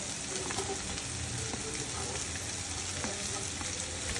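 Onions fry in a pan for a Khandeshi-style chicken masala, giving a steady, loud, continuous sizzle with occasional soft stirring scrapes throughout, close up and without talk.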